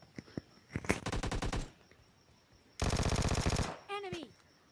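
Rapid automatic gunfire from a Vector submachine gun in the mobile video game PUBG Mobile, heard as two loud sustained bursts separated by a short pause and ending in a few scattered shots and a brief whistling tail.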